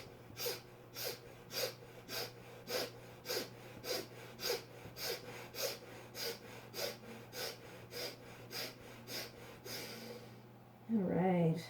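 Steady rhythmic breathing during a yoga workout, roughly a dozen evenly spaced inhale and exhale pulses at close range over a low constant hum, with a brief burst of voice at the end.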